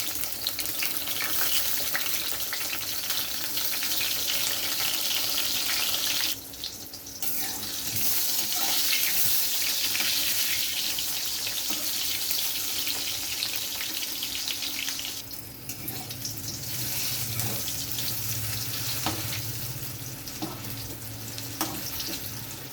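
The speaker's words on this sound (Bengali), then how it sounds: "তেলের মধ্যে দিয়ে দিচ্ছি বেগুনগুলো আমি ভেজে নেবো" Brinjal pieces rubbed with salt and turmeric fry in hot oil with a continuous, dense sizzle that stays loud and close for the whole stretch, easing slightly in a couple of spots, with no talking.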